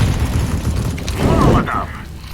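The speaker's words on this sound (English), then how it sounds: "I'm throwing a grenade." A grenade goes off in the PUBG battle royale game, a loud deep boom with a rumbling tail, heard under a player's voice calling out throwables.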